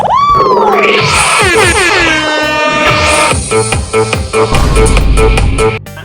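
Music plays loud and full through a 12-inch D12 mid-high speaker box during a sound test, with sweeping synth tones and a heavy bass thump toward the end.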